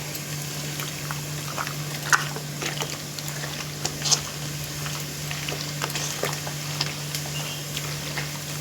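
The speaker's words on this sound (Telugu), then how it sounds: "వేగుతున్న ఉల్లిపాయల్లో మనం ఈ మటన్ని వేసేయాలి" Mutton dropped into frying onions for Andhra-style mutton dum biryani gives a steady close sizzle with scattered crackles and pops over a low hum.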